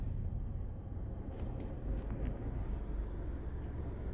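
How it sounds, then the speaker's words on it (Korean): A first-generation Kia K3 with a 1.6 GDI engine idles while stopped, its engine noise louder than expected, heard from inside the cabin as a steady low rumble with no talking. "엔진의 소음이 좀 약간 심해요."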